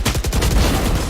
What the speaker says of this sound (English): And incredibly, a wallbang headshot.